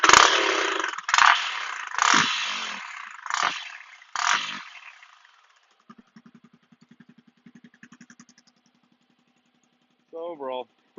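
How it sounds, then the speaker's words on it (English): A 2019 Honda CRF250F dirt bike engine revs hard in four or five loud, rising bursts, then drops to a lumpy, pulsing idle that fades out, with a brief voice at the end. "Give it a couple revs."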